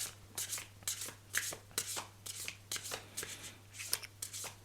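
Tarot cards are shuffled by hand in a quick run of papery riffles and soft slaps, each burst crisp and close, with a faint steady hum underneath.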